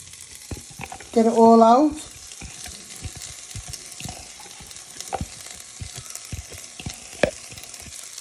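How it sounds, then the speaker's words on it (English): Garlic and onion frying in a hot pan give a continuous close sizzle with scraping stirs and small taps, while a voice speaks briefly. "You want to fry these for 2 to 3 minutes so they go nice and brown"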